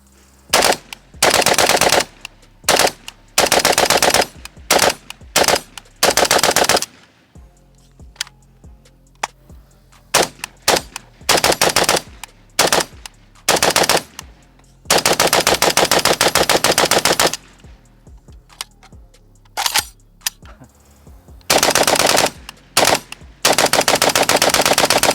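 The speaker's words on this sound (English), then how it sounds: "3 mags bump firing, not a single jam to speak of" A Pioneer Arms AK 556 Sporter rifle is bump fired through three magazines outdoors: loud, rapid automatic-style bursts of varying length separated by short pauses and scattered single shots, very close with no talking.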